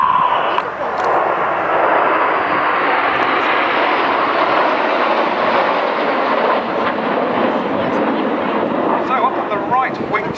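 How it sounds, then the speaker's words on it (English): Loud jet engine roar of the Red Arrows formation sweeping past with smoke on at the 2011 Koksijde airshow in Belgium, broad and sustained, with a voice talking over it. "now the engines fire up and you see the smoke come on as the team passes by"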